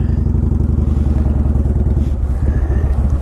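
A Yamaha Warrior motorcycle with a 102 cubic inch engine runs close by, giving a loud, steady low throb with a rapid pulsing beat and no voices.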